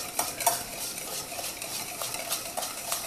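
Cookie batter with vanilla sugar and a pinch of salt being stirred in a bowl, a steady run of scraping, clinking strokes repeating for a few seconds, close and moderately quiet with no voices.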